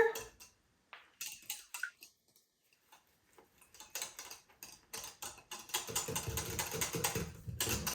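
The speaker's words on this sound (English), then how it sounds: "We're just gonna whisk this together." Freeze-dried milk powder is whisked into water in a bowl, giving sharp irregular clicks and taps that settle into a steady rapid whisking rattle toward the end.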